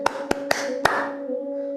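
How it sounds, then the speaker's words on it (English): Children clap their hands during a yoga session: four sharp claps, three in quick succession and a fourth after a short pause, followed by a steady hum. "So this clapping"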